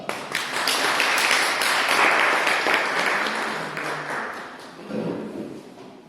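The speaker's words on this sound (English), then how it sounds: "Shall we call him with a big round of applause, Mr. Hanuman Prasad ji" An audience at a talk on the Gita breaks into steady, dense applause that swells and holds for several seconds before tapering slightly, with no talking over it.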